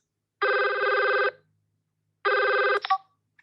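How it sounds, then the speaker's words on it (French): A telephone rings in two clear bursts separated by a pause, each bright electronic trill lasting about a second, loud and close, with no talk over it. "Allô? Allô, Maryse?"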